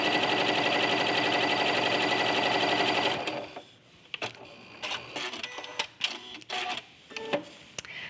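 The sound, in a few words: sewing machine sewing quilt pieces together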